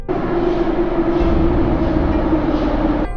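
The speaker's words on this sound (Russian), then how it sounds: "Двери вагона закрылись, и поезд стал набирать ход." A train pulling away from a station rumbles steadily with a low, sustained drone and a faint tonal hum, loud and close, fairly constant throughout.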